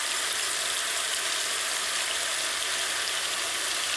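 Chicken meat seasoned with kosher salt sizzling steadily in a hot pan for chicken noodle soup, a continuous bright crackling hiss without pauses and no voices.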